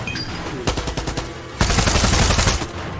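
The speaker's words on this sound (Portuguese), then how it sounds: "Pouco tiro isso aí." Rapid bursts of automatic gunfire from the video game Far Cry 6, first a rattling volley and then a denser sustained barrage, loud and close with no talk.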